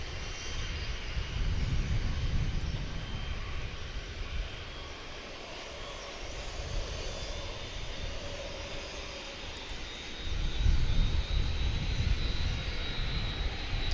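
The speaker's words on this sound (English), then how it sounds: "This will be an A319, and it doesn't have anything in its way, so I think it's just going to blast off here." An Airbus A319 at DFW airport gives a steady, distant jet roar with a low rumble that swells toward the end, heard alone without any voices.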